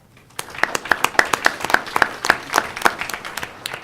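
Applause for award recipients at a school board meeting: a small group claps in distinct, fairly regular beats, close and moderately loud, with scattered extra claps filling the gaps.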